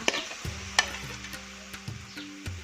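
Cucumbers tossed into a hot pan and stir-fried for a sweet and sour dish: a soft sizzle with several sharp scraping stirs of a utensil against the pan, close and alone.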